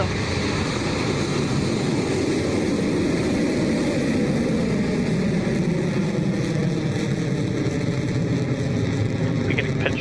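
A Rocket Lab Electron rocket lifts off with a continuous, loud, broadband roar that holds steady and unbroken throughout.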